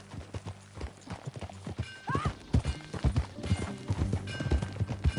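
Hooves clip-clop in a steady rhythmic gait as a horse is ridden in the video game Red Dead Redemption 2, with a brief whinny in the middle and light ambient sound behind.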